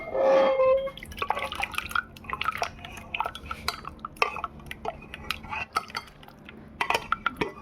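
Doi mutton curry poured from a cooking pot into a dish after simmering about 25 minutes, with a loud scrape at the start, then wet drips and soft metallic clinks of pots and utensils continuing close by.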